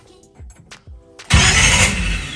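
The engine of a 1966 Chevrolet Nova SS is turned over without starting: a few faint clicks, then a sudden loud, sustained whir of fast cranking.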